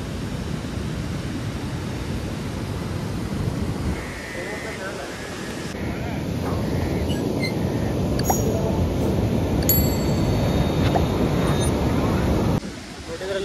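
Sea waves at Baina beach in Goa roll in as a broad, steady wash of surf noise, close and fairly loud, with wind buffeting the microphone throughout.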